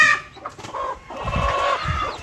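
Desi country hens cluck in short, repeated bursts at close range, with faint rooster-like calls and other fowl noise mixed in around a farmyard flock; no voices.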